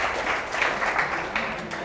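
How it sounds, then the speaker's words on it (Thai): Audience applause for a volunteer stepping up at a live event: a steady wash of clapping from many hands, moderately loud and continuous, with a few swelling bursts and no clear talk over it. "ปรบมือเพื่อนหน่อยครับ"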